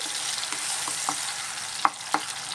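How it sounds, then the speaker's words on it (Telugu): Tomato gravy fries in hot oil with a soft, steady sizzle, broken by a few sharp spoon scrapes and taps as it is stirred, no voices. "చూసారా ఎంత చక్కగా వేగుతుందో టమాటా"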